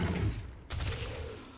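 Gunfire from a heavily multishot-boosted weapon in the game Warframe: a dense crackling burst of shots up front, then a sharp blast followed by a rumbling, rattling tail, loud and close with no talk.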